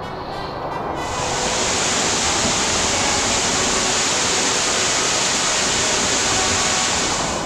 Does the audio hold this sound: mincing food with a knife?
no